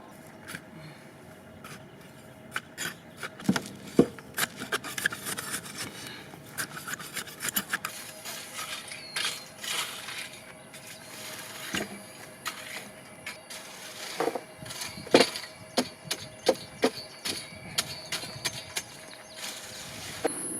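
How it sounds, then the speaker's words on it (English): Soil in a garden bed being raked and tilled, with repeated scraping, scratching strokes and irregular rustling taps at close range, fairly quiet, no talking. "got that all loosened up, tilled up, and raked nice and even"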